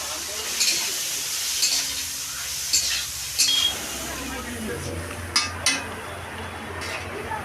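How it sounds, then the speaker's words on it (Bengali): Soybeans frying in a pan give a soft steady sizzle, broken by several sharp clinks and scrapes of a spatula stirring against the metal. "এখন সোয়াবিনের কষার জন্য সোয়াবিনটা ভেজে নিচ্ছি।"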